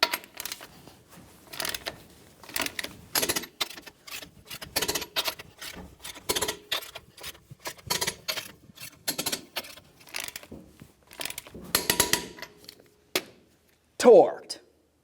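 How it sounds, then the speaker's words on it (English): A torque wrench tightening lug nuts in a crisscross pattern on a 1999-2006 Chevrolet Silverado 1500 wheel, giving a steady series of sharp mechanical clicks and ratcheting bursts close by, with a final louder clack. "let's torque these in a crisscross manner"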